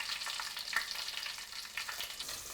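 Mustard seeds, dried chillies and curry leaves sizzle in hot oil, a steady bright crackle with scattered pops, close and fairly quiet, no voices.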